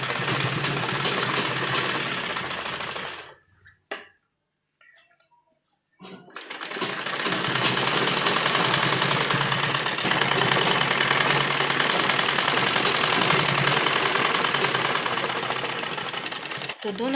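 A sewing machine stitches fabric for a pleated frock in a fast, steady mechanical chatter. It stops for about two seconds of silence, then resumes and runs continuously at the same loud, close rate.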